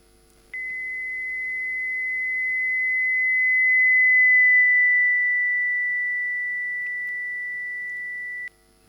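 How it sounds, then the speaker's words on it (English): A simulated sine tone from a source travelling along a straight road past the listener, a single steady whistle that swells and slightly drops in pitch as it passes, then fades, with no reflections added. "a source that is moving along a straight trajectory and emitting a sinusoidal signal"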